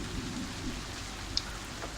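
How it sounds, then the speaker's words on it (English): Soft, steady rain patters in TaleSpire, a quiet continuous hiss with a single faint droplet tick near the end. "let's get out of this rain, man"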